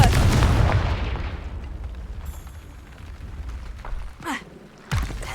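A Confringo fire spell bursts in Hogwarts Legacy, a loud rumbling explosion that decays over a couple of seconds, followed by two smaller whooshing magical bursts.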